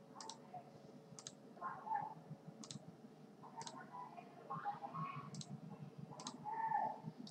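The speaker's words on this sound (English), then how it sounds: "I'll click on register once again." Sparse computer mouse clicks while registering on a PHP web page, single faint clicks spaced a second or so apart over a low steady room hum.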